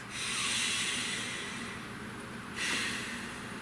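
Deep, slow breaths, close and loud, with one long airy exhale followed by a second breath starting near the end, no talking.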